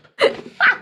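Indoors during a mortgage chat, a single short sneeze bursts out close by, preceded by a quick sharp intake of breath and trailing into a brief second puff of sound.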